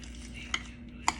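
A utensil stirs a homemade coconut mix for Thai sweet sticky rice, giving two light, close clinks about half a second apart over a faint steady background.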